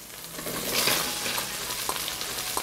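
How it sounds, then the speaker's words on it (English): Leeks frying in fat left from partially fried meat, giving a steady close crackling sizzle with faint stirring scrapes and no voices. "I fry leeks in the same fat."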